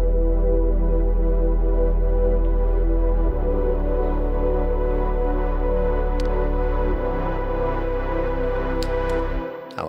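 Lush layered synth pads with reverb, including a low sub pad filling the bottom end, sustain through a trance remix breakdown, holding steady chords that shift twice, loud and close with no voice over them.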